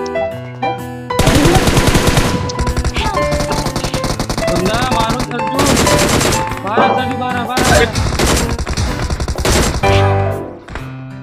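Gunshots in a mobile battle royale game rattle in rapid, loud bursts across most of the stretch, with short gaps between volleys and music-like tones mixed in.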